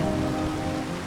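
Steady rain falling in the farming video game Farming Simulator 25, a continuous loud hiss of drops on surfaces without a break.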